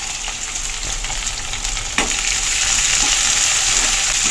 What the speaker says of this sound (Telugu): ఉల్లిగడ్డలు వేస్తున్నా.